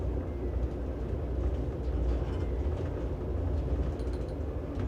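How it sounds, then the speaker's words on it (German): Intercity train in Greece running between Athens and Koropi, heard from inside a first-class carriage: a steady low rumble and rolling drone with faint rattles, continuous and even, no voices. "Genießen wir die letzten paar Meter unserer heutigen Zugreise."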